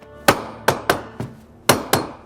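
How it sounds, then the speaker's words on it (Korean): A king hammers in a scene from the Korean film Sado (The Throne), six sharp, close hammer blows at uneven intervals, with a short pause before the last two and no voices. "험한 일 한 번 안 한 왕이 망치질을 이렇게 잘하는 건 그냥 한번 생각해 본 오게티입니다"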